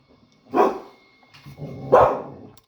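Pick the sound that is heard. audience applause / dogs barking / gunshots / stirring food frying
dogs barking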